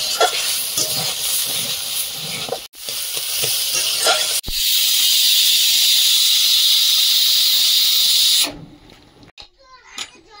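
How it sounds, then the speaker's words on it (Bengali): Pressure cooker releasing steam in a home kitchen, a loud continuous hissing whistle lasting several seconds, preceded by crackling cooking sounds and followed by quieter kitchen noise. "ওদিকে প্রেসারে সিটি করছে।"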